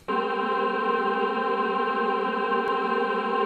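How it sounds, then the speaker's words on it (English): A steady, sustained vocal drone hangs in a wash of reverb, smooth and unchanging throughout. "This lush vocal drone sounds really nice for this"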